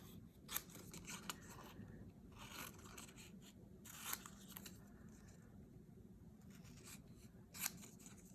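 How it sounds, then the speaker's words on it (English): Scissors snipping around a papercraft piece from a Paper Pumpkin card kit, leaving a small border, heard as faint crisp cuts with three sharper snips over a soft room hiss and no talking. "I just put this on the flap, and I just cut it with a little bit of a border"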